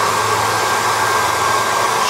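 Hot air gun running on its highest setting while shrinking tubing over soldered wires, a loud, steady, close whooshing roar with a constant motor hum and no variation.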